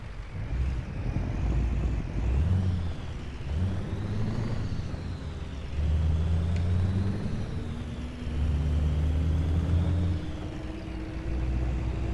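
Steady truck engine drone from Euro Truck Simulator 2 with low rumbling that swells and eases in cycles, a continuous mechanical hum with no voices.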